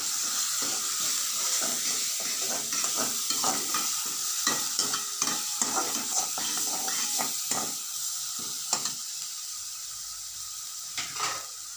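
Onions and cauliflower sautéing in oil in a pan with turmeric, a steady close sizzle and frying crackle broken by repeated stirring scrapes, with no talking.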